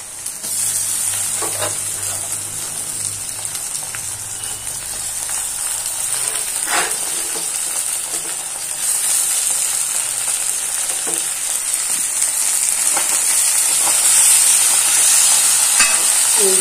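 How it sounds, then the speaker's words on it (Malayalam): Garlic, ginger and green chillies are sautéed in a hot pan for a fish curry, giving a steady close sizzle with occasional stirring scrapes and clicks throughout. "പച്ചമുളക് ഒക്കെ ഇട്ടിട്ട് നന്നായി അതും വഴറ്റിയെടുക്കാം."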